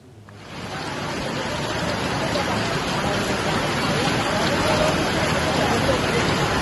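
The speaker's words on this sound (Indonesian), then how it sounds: "hujan deras mengguyur Jakarta sejak sore hari" Heavy rain pours down over flooded streets in Jakarta, a steady, dense hiss that swells in during the first second and then holds loud and constant without a break.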